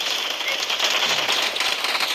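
Rapid automatic gunfire in a shooting video game, dense crackling bursts repeating steadily at moderate loudness throughout, without clear speech over it.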